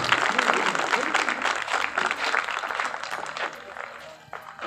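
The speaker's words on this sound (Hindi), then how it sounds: "ज़ोरदार तालियों से इनका वेलकम करें।" An audience at a child rights symposium claps loudly to welcome a guest, sustained, dense applause that gradually thins out toward the end.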